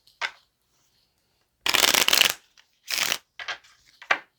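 A deck of playing cards being shuffled on a table in several quick riffle bursts separated by pauses, close and crisp in a quiet room.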